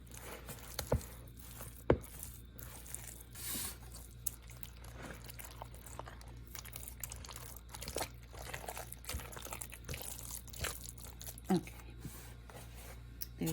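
Ricotta cheese is stirred into a thick filling mixture in a bowl, giving quiet, close squishing and scraping noises with occasional soft clicks of the spoon.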